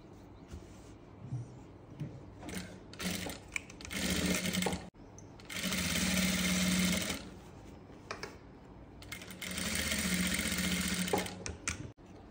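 A sewing machine stitches a Haryanvi daaman, three distinct runs of rapid mechanical whirring separated by quieter pauses with fabric handling, heard close up.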